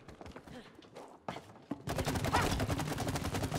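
Heavy gunfire from the It Takes Two co-op video game erupts after a quieter stretch: a loud, dense, continuous barrage of rapid shots that fills the last half of the moment and stays close and intense.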